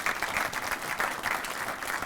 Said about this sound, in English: join your hands in applauding Dr. Sherry Kruger.